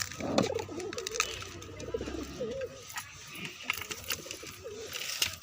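Pigeons cooing nearby, soft low throaty coos repeating through the clip over faint background noise, with a little indistinct voice in the mix.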